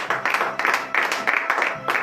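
Congregation applauding in church right after a morning prayer in Benin, a dense run of clapping bursts that swells and dips across the moment, fairly close and loud.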